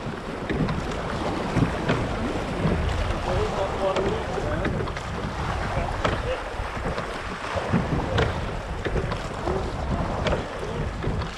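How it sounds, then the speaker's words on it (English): A gig rowing boat out at sea in strong wind, with steady wind buffeting and water rushing around the hull throughout, and occasional voices faintly under the noise. "There's that snatch, just as Tom said, keep rowing"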